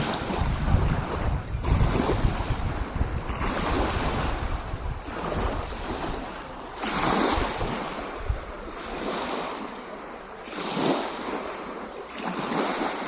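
Sea waves roll onto Travemünde beach on Germany's Baltic coast, surging in repeated swells every couple of seconds under a heavy rush of wind across the microphone, with no voices.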